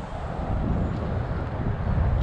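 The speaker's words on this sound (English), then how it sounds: "It's so windy today." Low, rumbling wind buffeting the microphone beside a UK gravel pit while pike fishing, steady and fairly loud with gusty swells, no voices.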